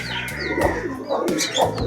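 A red Katta Mooku homer pigeon from a breeding loft in Pondicherry coos nearby in soft repeated throaty notes, with faint chirps around it.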